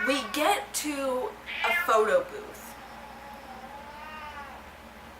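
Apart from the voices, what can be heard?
pet cat meowing, begging to get out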